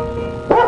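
A single short dog bark, loud and close, after a brief stretch of quiet background hum.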